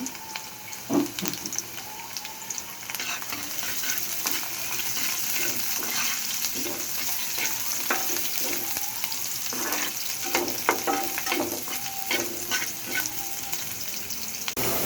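Onion and garlic frying in oil for dal, a steady close sizzle with repeated clinks and scrapes of stirring, moderately loud and continuous with no voice over it.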